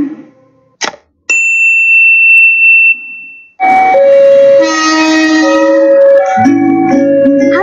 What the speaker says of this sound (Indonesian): siapa di sini yang tidak tahu kereta api?